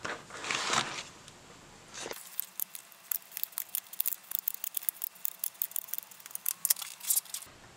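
Cutting the cover off a wire-bound book: after a brief rustle, a rapid series of sharp, close snips and clicks follows in an uneven rhythm, fairly quiet and alone.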